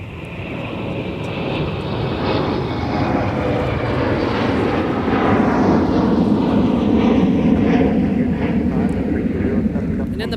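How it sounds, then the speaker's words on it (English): Airliner rotating and climbing away from the north side of Minneapolis–St. Paul airport, a steady, loud jet roar heard from a distance that swells slowly and holds throughout. "In the background, we have a flight that just rotated off the north side."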